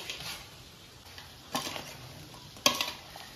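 Mustard-vinegar paste being stirred into ghost chillies for pickle: faint, soft scraping and mixing, with two sharper clinks of the utensil against the bowl.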